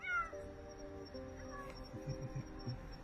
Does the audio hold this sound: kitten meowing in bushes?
yes